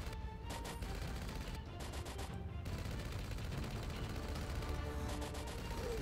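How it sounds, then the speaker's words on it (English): Gunfire in the video game Carnivore Land, a steady stream of rapid shots under a dense, continuous game soundscape, fairly faint and unbroken throughout. "stop shooting at me!"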